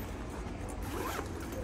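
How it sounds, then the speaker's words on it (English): A zipper runs closed on the racket compartment of a Yonex racket bag, a steady close-up rasp lasting under two seconds with no one speaking. "So you can put inside like this and just zip it up."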